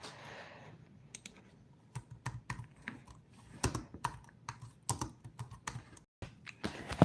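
Someone types coordinates on a computer keyboard, with brisk bursts of close key clicks separated by short pauses and a faint background hum.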